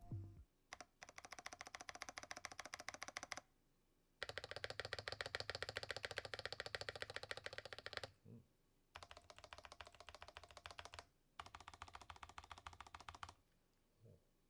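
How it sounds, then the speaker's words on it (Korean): A Razer BlackWidow V4 75% gaming keyboard tested for stabilizer noise: rapid bursts of loud, rattling key clacks in dense runs, separated by short silent pauses. "게이밍 키보드지만 스테빌라이저 소음 테스트 한번 진행해 보도록 하겠습니다"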